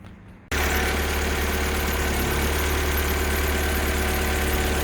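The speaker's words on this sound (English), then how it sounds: "I'm now going to start the engine up and see how it runs." A Renault Twingo Mk1 engine, just after compression testing and spark plug wire work, cranks and catches abruptly after a brief quiet moment, then settles into a loud, steady idle with a low rumbling pulse.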